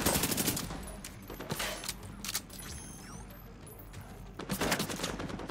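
Gunfire from a sniper in The Division 2 shooter game: dense, rapid bursts of shots at the start and again at the end, with a quieter stretch of scattered reports between them.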